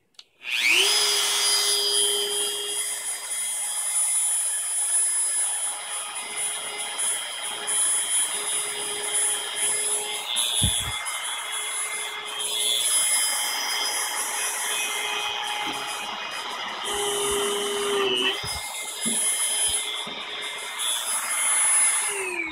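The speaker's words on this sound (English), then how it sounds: "use my Dremel and drill the hole for the set screw" A high-pitched Dremel rotary tool whines steadily for a long stretch while drilling a set-screw hole in a lightsaber prop, its motor tone dipping slightly as it bites into material, with no talking.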